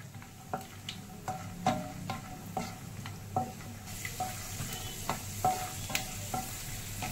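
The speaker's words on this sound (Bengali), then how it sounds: "কাঁচা বাদাম তার জন্য প্রথমে বাদামগুলো একটু ভেজে নিচ্ছি" Raw peanuts fry in hot oil in a pan, with a steady sizzle broken by regular scraping clicks of stirring, close and fairly loud, no talking.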